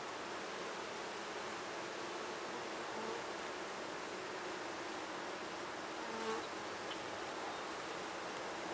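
Honey bees from a healthy open hive hum in a dense, continuous buzz, steady and close with no pauses.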